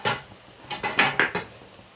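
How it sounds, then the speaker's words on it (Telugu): A spoon scrapes and clinks against a pan while lentil dal seasoning is stirred, with a few sharp metallic knocks and scrapes close by and no talking. "ఇప్పుడు ఇలాగా మొత్తం అంతా కలిసిపోయేటట్టు కలిపేసుకోవాలి"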